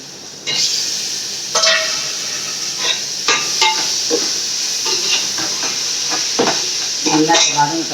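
Onions and tomatoes sauté in hot oil for chicken biryani, a continuous close hiss with repeated clanks and scrapes of a stirring spoon against the pan.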